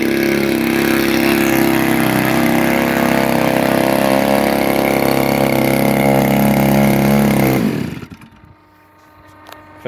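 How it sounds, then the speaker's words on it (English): A Zenoah GT80 gas engine runs in a Ziroli F8F Bearcat RC model, a loud, steady droning roar that holds for about eight seconds, then cuts off abruptly and winds down into quiet. "So this is the first engine run of the GT80, and yeah, it fired right up."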